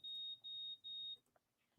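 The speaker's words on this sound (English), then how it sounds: "Disable that waypoint alarm. It's going to drive us crazy." Waypoint alarm on a Raymarine Axiom chartplotter sounding three high, piercing electronic beeps in quick succession, then stopping, followed by faint small clicks and handling sounds.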